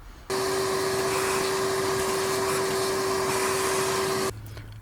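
A loud vacuum cleaner runs steadily for about four seconds with a constant motor whine, cleaning out the blower motor area of a Mazda Miata, then switches off abruptly.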